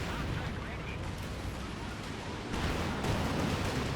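Panzerwerfer rocket artillery barrage in the game Company of Heroes 2, a dense continuous rumble of blasts and crackling impacts, louder bursts toward the end, somewhat distant and muffled.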